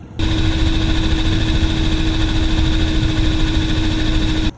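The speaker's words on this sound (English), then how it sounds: "I can hear the helicopter sound from here." A steady, loud mechanical whir with a constant helicopter-like hum from a motor-driven spinning bat machine, running evenly for several seconds before cutting off abruptly.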